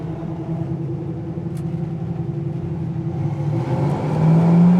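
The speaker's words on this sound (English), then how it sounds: "We're gonna go ahead and go through the gears for a second, third." A 1969 Chevy Nova accelerates through the gears, its engine a steady droning rumble seen from inside the car that rises in pitch and loudness toward the end.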